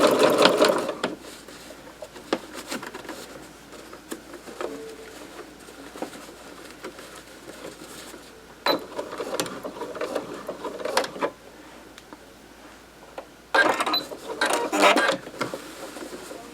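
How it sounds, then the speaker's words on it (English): A sewing machine stitches a rice-filled fabric heat pad in short, soft runs of whirring stitches, separated by quieter stretches of fabric handling and light rustling. "And I'm just going to keep sewing."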